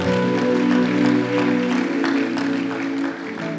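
A church congregation claps steadily together throughout, a sustained wash of applause layered over held musical tones, fading slightly at the very end.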